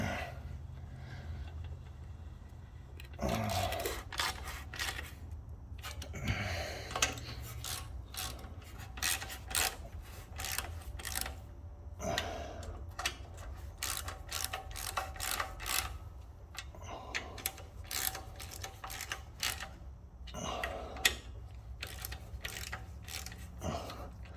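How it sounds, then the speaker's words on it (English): A hand ratchet tightens down the carburetor on a Kohler Courage engine of a Craftsman riding mower, giving close, repeated runs of rasping clicks in uneven bursts with brief pauses between strokes. "Finish tightening this down. I don't know why I'm using a ratchet."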